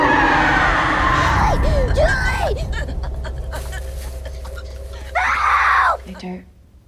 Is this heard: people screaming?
yes